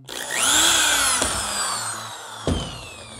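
A power drill with a 3.3 mm bit bores a hole into a door frame while a small door is being built, whining steadily close by, with two sharp knocks near the end.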